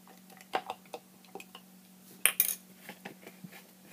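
A utensil stirs and scrapes against a container while homemade white gesso is mixed, making a string of light clinks and taps with one louder clatter midway, with no voices present.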